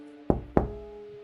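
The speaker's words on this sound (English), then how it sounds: "a knock" Two sharp knocks on a front door, spaced about a quarter second apart, each a hollow resonant thud with a short ringing decay, close and clear in a quiet room.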